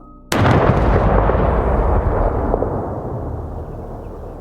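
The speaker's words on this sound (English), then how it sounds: "There's a deafening explosion and the room erupts in flames." A deafening gas explosion inside a house with an old gas stove, one sudden loud blast followed by a long roaring rumble that slowly fades.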